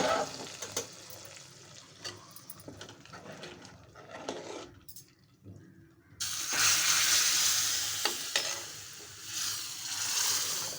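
A hiss of curry leaves tempering in hot oil for tomato dal rises abruptly midway and continues loudly, with faint clinks and stirring beforehand.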